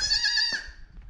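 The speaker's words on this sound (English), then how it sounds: "Number two baby goat and baby diaper." A baby goat, kept in a diaper on a farm, gives one short, close, high-pitched bleat that fades quickly.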